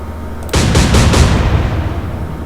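Destroyer deck guns fire shells in the Atlantic Fleet naval video game: a sharp boom at about half a second, followed by a few rapid echoing blasts that roll off into a fading rumble.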